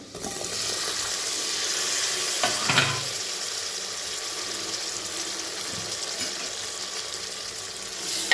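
Tomato and potato sizzle steadily in a pan for a simple khichdi, a moderate continuous frying hiss with a brief stirring scrape partway through.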